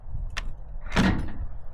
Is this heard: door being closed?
yes